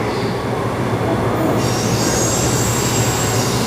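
A train pulls away from a platform at Perth station, its wheels squealing loudly and steadily over a constant low rumble of rolling stock, with no voices.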